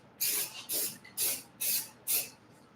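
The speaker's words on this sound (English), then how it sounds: "I'm also spraying a little bit closer than I should be" Five short, loud bursts of paint spray from close range, evenly spaced about half a second apart, each a sharp hiss with nothing else in between.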